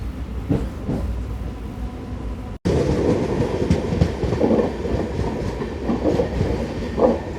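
A MEMU express train running from Narasapur to Rajahmundry, with a steady loud rumble and rhythmic wheel clatter throughout, briefly cut off once before resuming, heard from on board.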